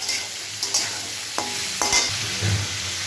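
Boiled soybean goes into fried potatoes in a pan, a loud continuous sizzle with a few sharp clicks and scrapes of the stirring spoon against the pan.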